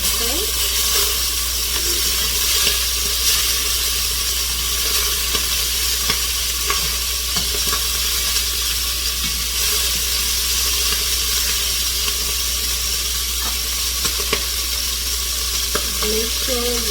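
Pot of curry chicken coming to a boil, a steady dense bubbling hiss running continuously throughout, close and fairly loud, with no talking over it.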